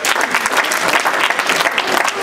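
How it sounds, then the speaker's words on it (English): A room of people at a high school class reunion claps for the band, loud, close, rapid hand claps carrying on steadily without any talk. "Let's give them a big round of applause."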